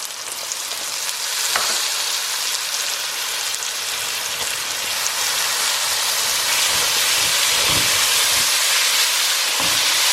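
Tomatoes frying in a pan for baingan bharta give a loud, steady hiss and sizzle throughout, with a few soft thuds from stirring near the end.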